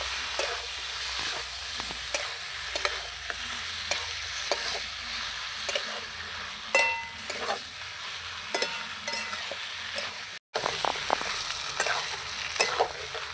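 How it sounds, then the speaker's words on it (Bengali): Meat for a curry with elephant foot yam, stirred and fried in spices in a pan, giving a continuous close sizzle broken by repeated scraping and clinking of a spatula, with no voices. "মাংসগুলো দিয়ে দিয়েছি, এবার নাড়াচাড়া করে নেব। ভালো করে কষতে থাকবো।"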